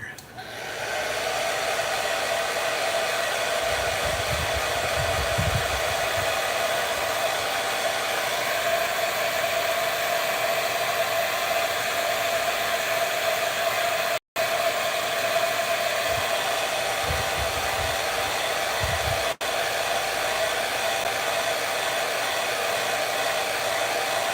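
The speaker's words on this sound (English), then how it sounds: "I want to dry this off with my handy dandy hairdryer." A hair dryer drying paint, blowing continuously with a steady whirring hum, briefly cutting out once partway through before running on.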